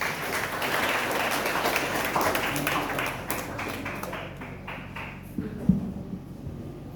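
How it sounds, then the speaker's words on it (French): A Baptist church congregation at an annual conference claps for the preacher, a full round of applause that thins out into scattered claps and taps before a final knock. "Nous applaudissons serviteur."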